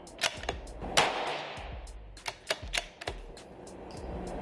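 Savage B17 MDT rimfire rifle firing 17 HMR rounds at a 50-yard range target, heard as several sharp, fairly faint cracks spaced unevenly, with a louder shot near the start and a quick cluster of reports later.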